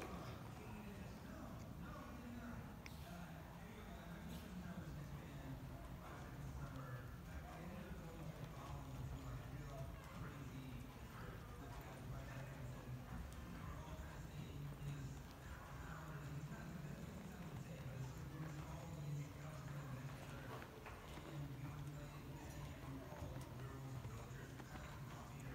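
Horse loping on a working pattern, with soft repeated hoofbeats in a steady rhythmic cadence heard at a distance, mixed with low background noise and occasional voices.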